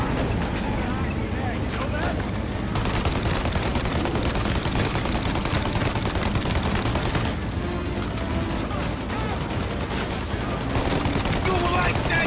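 Sustained gunfire in the video game Mafia Definitive Edition, dense loud bursts of shots filling the whole stretch, with voices talking over the shooting.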